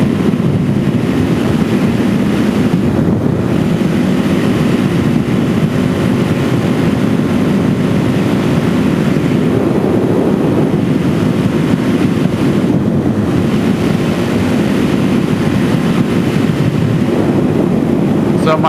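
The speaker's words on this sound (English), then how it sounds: "I'm really battling the wind." Steady roaring wind buffeting the microphone while riding a DRZ 470SM motorcycle, a loud broadband rush that fills the whole stretch with constant low rumble and surging gusts.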